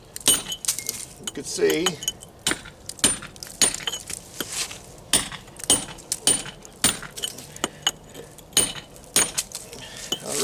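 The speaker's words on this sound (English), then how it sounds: "Already, I'm cutting into it. See how I'm cutting into that stone?" Hammer blows on a chisel cutting into a stone wall with weaker cement joints, a steady run of sharp metallic strikes close by, with brief speech partway through.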